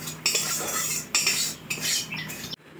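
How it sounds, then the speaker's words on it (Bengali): A spoon works through a pan of labra, a vegetarian mixed-vegetable curry just dusted with dry red chili powder. Several close, clinking scrapes against the metal come in quick strokes before stopping abruptly. "এই কাঁচা শুকনো লঙ্কার গুঁড়ো দিয়েছি, এবার এটা নেড়ে নামিয়ে নেবো।"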